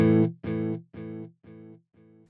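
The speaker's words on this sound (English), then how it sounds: "So when we run in series and we just have our clean sound" Clean electric guitar tone through a delay, one struck note followed by four evenly spaced repeats that fade step by step, alone with no talk.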